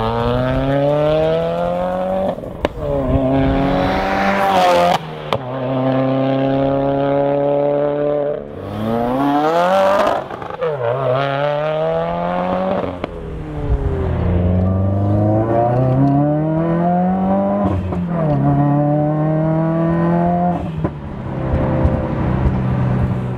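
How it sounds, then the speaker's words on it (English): A 2015 Subaru WRX with a Perrin equal-length header exhaust drives past close and loud, its deep, aggressive engine note climbing and falling through repeated revs and gear changes, with no talking. "the exhaust has a deeper tone to it and a more aggressive tone"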